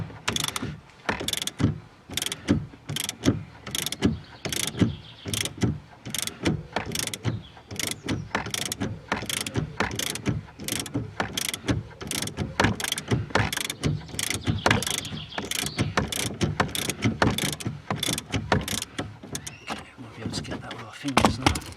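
Rapid, loud ratcheting clicks from a wrench undoing a rear suspension strut bolt on an Alfa Romeo GT, 147 or 156, running steadily close up in a long series of sharp strokes.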